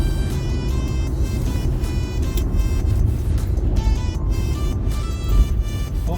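A car rolls along a road toward an auto auction yard, passing under an overpass, with a steady, loud engine and road rumble and tire noise that continues throughout.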